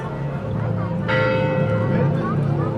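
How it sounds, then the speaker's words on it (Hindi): A clock tower bell on a busy Yerevan street striking ten o'clock, a single clear ringing tone that sustains over constant street noise while people talk nearby. "देखो 10 बजे की घंटी बज गई है"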